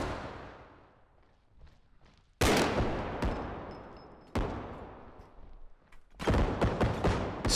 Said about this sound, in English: Gonna take pot shots into there.